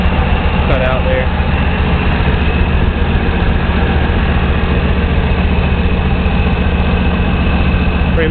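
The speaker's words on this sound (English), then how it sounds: "there's the engine of this truck" A stock Nissan Hardbody truck engine idles in a steady low rumble, held close and constant throughout with no voices over it.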